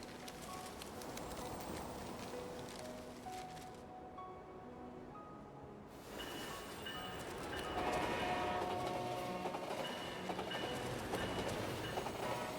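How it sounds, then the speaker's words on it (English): A train passes with a continuous rumbling rush of rail cars and faint clickety-clack, fading briefly before swelling louder again as more wagons roll by, moderately distant. "What a train."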